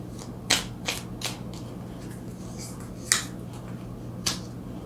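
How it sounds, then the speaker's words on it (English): Tarot cards are shuffled close up, a few sharp riffling snaps and slaps spaced irregularly over quiet background hum, with no talking. "Let's get a card for your opportunity."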